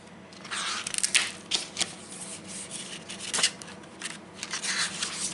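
A glossy Uncharted 4 collector's edition artbook is opened, with close, crisp paper and cardboard rustles, flicks and rubbing in quick irregular bursts. The handling noise is fairly loud and continues unevenly throughout, with no talking.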